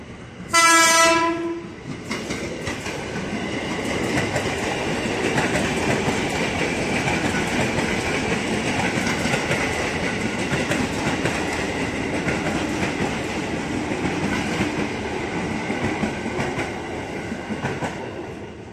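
A loud train horn blasts for a couple of seconds, then a KRL commuter train bound for Bogor rumbles past close by at a former level crossing in Depok, Indonesia, with steady clattering wheels for a long stretch.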